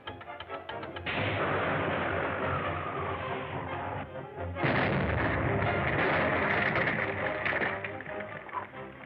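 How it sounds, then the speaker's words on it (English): A loud explosion in a Dick Tracy adventure serial roars as a sustained, crackling blast with rumbling debris, swelling again partway through, with no talk over it. "Spider will think we've been killed by the explosion"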